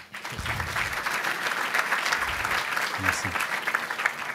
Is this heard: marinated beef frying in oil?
no